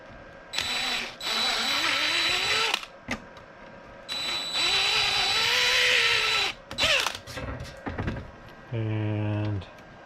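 Power drill boring into fan screws, several whining bursts of a couple of seconds each separated by pauses, the motor pitch sagging under load, ending with a short ratcheting clutch chatter.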